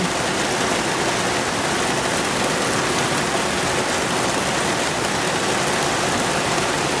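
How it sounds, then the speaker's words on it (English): Heavy rain pours down outdoors over a garden with fig trees in a steady, dense, loud hiss that never lets up. No thunder or voices stand out. "Here it is, look at there, thunder, tons of rain"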